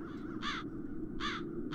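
Two harsh crow caws from the adventure game The Dark Eye: Chains of Satinav, evenly spaced and fairly near, over a low steady ambient rumble.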